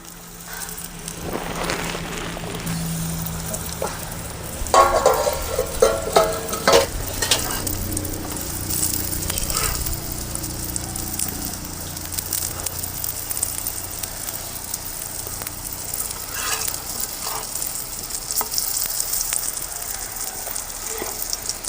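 Brinjal roasting in a pan, a loud continuous sizzle and crackle with scattered stirring and tapping knocks, close and steady throughout.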